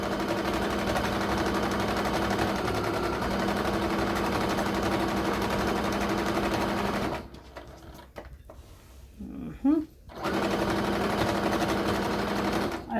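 A sewing machine stitches plaid fabric for a neck warmer, running steadily and loudly for about seven seconds, then stopping in a quiet gap with a few light handling sounds before the motor starts up again.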